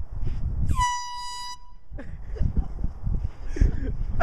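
Air horn blasted as a prank: one loud, blaring horn tone lasting under a second, with people talking and shouting loudly before and after it.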